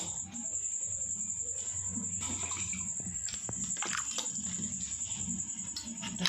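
Water is poured into a roasted mango sherbet, heard as a faint, steady trickle and splash close by, under a high constant whine from insects or the room, with a few small clinks.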